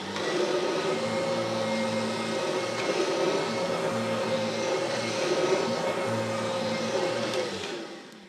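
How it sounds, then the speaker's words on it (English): A Kirby G3 upright vacuum cleaner running steadily as it is pushed and pulled, a loud close motor drone with a low hum underneath that holds throughout and cuts off at the end, no talking. "You saw that I was barely touching the vacuum, but it was jerking back and forth."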